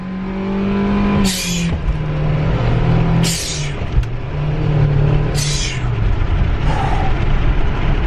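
A car engine revs hard and accelerates through several gear changes, each loud rising pull followed by a short break, close and dominant with no talking.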